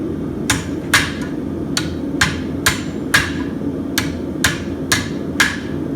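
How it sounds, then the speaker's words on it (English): A blacksmith hammers a glowing steel horseshoe over the horn of an anvil, crisp ringing strikes in an irregular rhythm of about ten blows, close and clear over a low background rumble, no talking. "And now take it back over the horn and the anvil."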